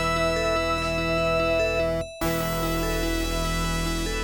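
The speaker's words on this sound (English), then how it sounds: "So you got the name entry screen from Sword of Vermilion." Name entry screen music from the Sega video game Sword of Vermilion, a steady looping chiptune melody over a sustained bass, with a brief dropout midway before the tune resumes.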